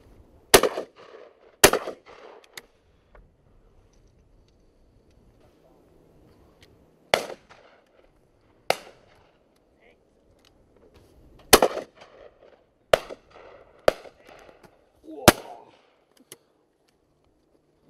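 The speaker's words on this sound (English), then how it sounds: "Two in one shot there, didn't we?" Shotgun shots fired at ducks flighting in at dusk, a series of sharp loud blasts, some in quick pairs, spread across the clip with quiet gaps and faint background noise between them.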